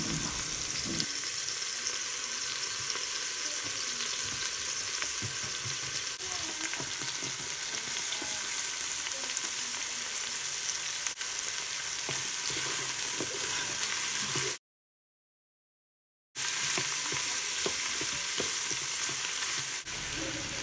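Onion sizzling and frying in a Ninja Foodi for a keto beef stew, a steady loud crackle with stirring scrapes throughout, briefly cutting out near the end before resuming.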